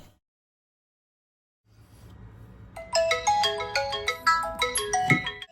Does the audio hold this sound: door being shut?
no